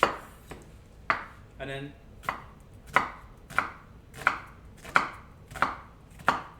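A knife chopping food on a cutting board while making Jamaican beef patties: about a dozen sharp, evenly spaced chops close by, with a brief voice speaking in the middle.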